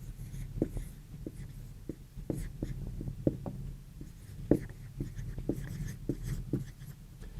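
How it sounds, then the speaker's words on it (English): A student writing an answer on paper in a middle school classroom, with steady soft pencil scratches and light taps continuing throughout, close and quiet with faint room murmur behind. "So why don't you go ahead and write that in there."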